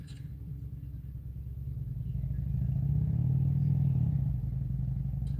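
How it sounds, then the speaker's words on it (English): A truck passes outside a building near a parking lot, a steady low engine rumble that swells to a peak around the middle and then holds, heard alone with no talk. "I was looking at this truck."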